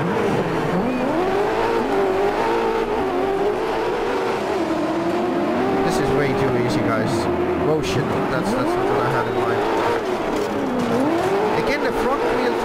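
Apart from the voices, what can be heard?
front-wheel-drive rally car driving in the video game DiRT 4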